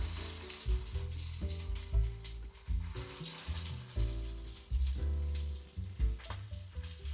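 Salisbury steak patties sizzle and crackle in a skillet of hot oil and butter, a close, steady frying hiss with popping bursts throughout and no talk.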